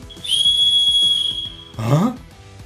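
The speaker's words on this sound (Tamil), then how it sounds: "நெக்ஸ்ட் இந்த ஃப்ளாப் ஒரு விசில்" A flap-mounted whistle on a multi-purpose emergency gadget with screwdriver tips, glass breaker and seat belt cutter gives one loud, steady shrill blast lasting about a second, close by, followed by handling noise.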